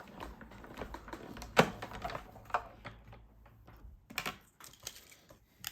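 A hand-cranked die-cutting machine rolls a magnetic plate and paper through with clicks, knocks and clattery mechanical ticks, intermittent and close.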